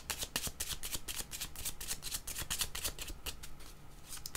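Tarot cards are shuffled by hand in a steady, close run of rapid riffling flicks and slaps, repeating crisply and evenly throughout with no voice.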